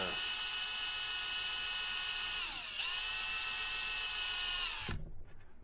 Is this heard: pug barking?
no